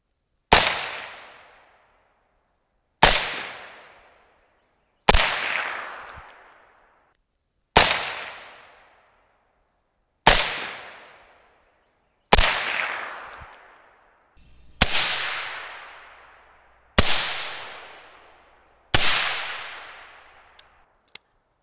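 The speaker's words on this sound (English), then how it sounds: "We're gonna do 3 shots, change to the AUG, 3 shots." Nine suppressed gunshots fired one at a time with a solid end cap suppressor, including shots from an AUG, each a sharp loud crack with a decaying tail, spaced about two to three seconds apart.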